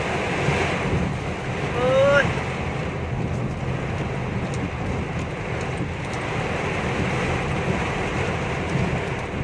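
Strong wind roars over crashing sea waves in a steady, loud wash, with gusts buffeting the microphone throughout, in a storm with rain at sea while fishing.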